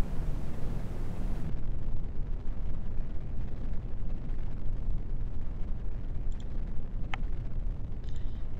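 Atlas V rocket engine roaring in flight in a video game, a loud, continuous broadband rumble that stays dense and steady throughout, with no voices.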